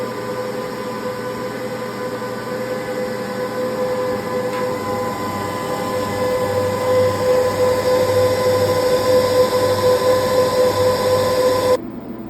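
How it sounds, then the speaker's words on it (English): Cooling fans of a SungoldPower 11.4kW inverter running at maximum speed, a steady loud whirring drone with a constant tonal hum that grows slightly stronger before cutting off near the end. "Here's a comparison between the units at max fan speed."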